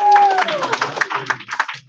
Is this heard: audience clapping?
yes